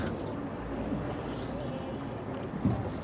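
Aboard a felucca sailboat on the Nile, steady wind rushes across the microphone over the wash of river water, a constant broadband roar with no clear pauses.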